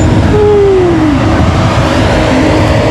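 A Sugeng Rahayu intercity bus, fleet 7219 on the Surabaya–Solo route, rumbles loudly and steadily as it passes close by, its engine drone holding throughout with a rising whine near the start.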